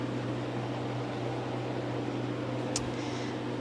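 A home freeze dryer runs at moderate volume, giving off a steady low mechanical hum with a constant airy whir, broken once by a brief click near the end.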